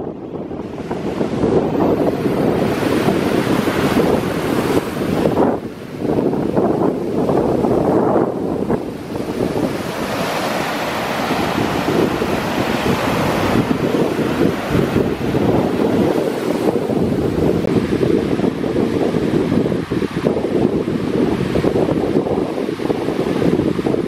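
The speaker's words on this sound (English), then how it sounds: "When you sleep here, you sleep to the sound of waves, continuous." Continuous rushing of wind and Atlantic surf at Hither Hills, Montauk, New York, in rain, with waves washing steadily and strong gusts buffeting the microphone throughout, loud and unbroken.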